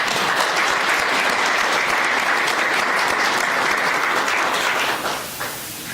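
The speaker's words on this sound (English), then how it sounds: "Let's all give them a round of applause." Audience applause at a United States citizenship ceremony, a dense, sustained round of clapping from a sizable crowd that holds steady for about five seconds before tapering off.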